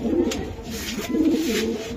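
Racing pigeons kept by a breeder, already sitting on eggs, coo in a steady low burbling chorus, with several birds overlapping in rolling rounds close by.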